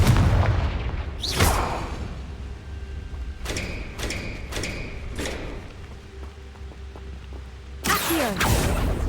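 Confringo blasting spells go off in Hogwarts Legacy as a handful of sharp, booming bursts, two big ones near the start and end with smaller thuds between, over a quiet, low background.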